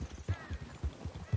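Horse hooves in the video game Red Dead Redemption 2 clop in a steady, fairly quick rhythm of soft thuds, heard alone at moderate distance over faint background ambience.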